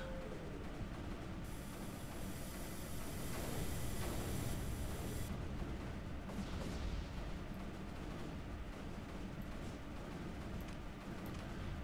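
Mortar fire in the strategy game Creeper World 3: Arc Eternal, a dense, continuous rumble of booming thuds and crackles at steady loudness, with a high whine through the middle stretch.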